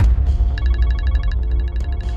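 A telephone rings in a household scene in an Indonesian drama, giving a series of bright, evenly spaced electronic ring pulses over a low background hum and music bed.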